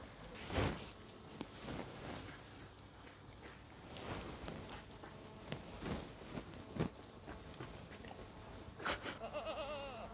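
Several goat bleats ring out at intervals among outdoor rustling and soft footsteps, with scattered background noise and no one speaking.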